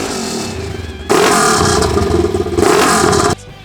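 An off-road vehicle fitted with a Gibson exhaust quiet kit revs at the 2019 Sand Sports Super Show: an idle, then two loud throttle bursts with a crackly exhaust note, dropping back to idle between them.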